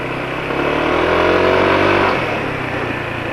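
A motorcycle engine revs up, rising in pitch and loudness, then drops back to a rough idle, close and alone.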